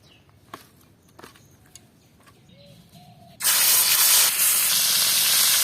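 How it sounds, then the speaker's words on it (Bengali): A pan sits quietly with small kitchen knocks, then turmeric-and-salt-rubbed pond fish is dropped into hot oil and a sudden loud, sustained sizzle and spatter takes over for the rest of the clip. "মাছের 1 পিঠ ভাজা হয়ে গেছে"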